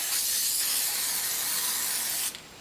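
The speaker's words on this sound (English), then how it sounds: "Spray the paper, get it covered completely" Spray adhesive hisses from an aerosol can in one long, loud, continuous burst while it coats sandpaper for a knife-sharpening board. It stops abruptly near the end, and a brief second spurt starts right after.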